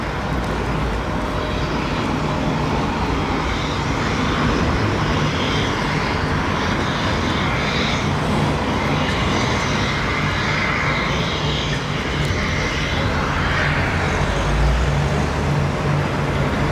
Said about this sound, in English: Someone's got his APU running over there.